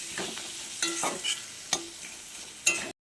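Chopped tomato stir-fried with Kashmiri chilli, cumin, salt and turmeric in a pan, giving a soft steady sizzle broken by several sharp scraping stirs of the spoon, fairly close and with no talking.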